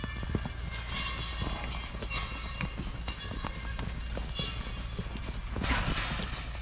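Calves running back into their paddock, a quick patter of hooves that continues steadily under a constant low rumble, with a voice heard faintly in the background.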